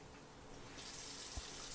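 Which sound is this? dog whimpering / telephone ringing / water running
water running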